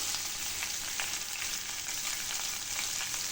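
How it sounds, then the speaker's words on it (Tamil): Green chillies and spices sauté in a hot oiled pan for rava upma, giving a steady, close sizzle of frying that holds evenly throughout with no voices. "எல்லாத்தையும் சேர்த்து நல்லா வதக்கிடலாம்."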